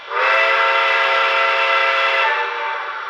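A Lionel model steam locomotive in Southern Railway livery sounds its steam whistle in one sustained, loud chord-like blast that holds steady for about three seconds, then eases slightly before ending.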